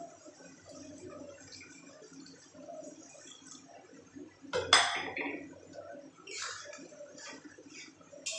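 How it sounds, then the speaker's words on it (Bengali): Water is poured into a cooking pot of mung dal curry with potato and pointed gourd, giving a short, close splash midway amid soft kitchen clatter. "এবার আমি ফাইনালি জল দিয়ে দিচ্ছি"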